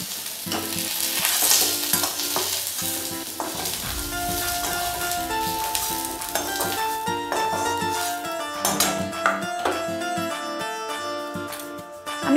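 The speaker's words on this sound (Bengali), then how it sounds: "দেখুন, আমার পটলগুলো প্রায় ভাজা হয়েই এসছে।" Pieces of pointed gourd (potol) fry in hot oil in a kadai, giving a steady, continuous sizzle with stirring that runs through the whole stretch at an even level.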